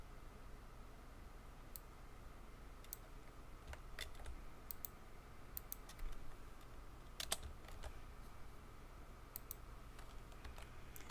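Quiet keyboard typing in a beginner Java programming lesson: scattered, irregular clicks of varying loudness over a steady faint hiss, with no voices.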